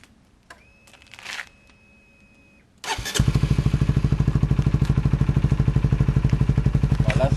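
A 125 CBR motorcycle fitted with an Akrapovic replica exhaust starts up after a few seconds of quiet handling noises, then idles loudly with a steady, rapid exhaust burble close to the mic.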